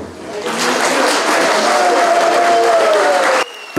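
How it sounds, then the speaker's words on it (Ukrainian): Loud, sustained applause from a large crowd at a public meeting, dense clapping filling the space for several seconds before cutting off abruptly. "Усі пункти присутні зустрічали бурхливими оплесками."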